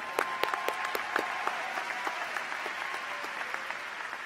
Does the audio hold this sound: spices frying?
no